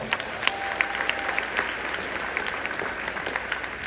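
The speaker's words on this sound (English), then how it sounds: "So let's give all them a round of applause." Applause from an audience at a city State of the City address in East Orange, a fairly distant, steady wash of clapping with a few sharper claps standing out, holding throughout.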